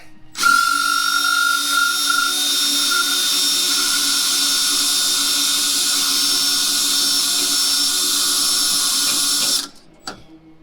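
A power drill with a bad drill bit whines at a steady high pitch for about nine seconds, loud and close, then cuts off, drilling into a 2022 Toyota Tacoma hood.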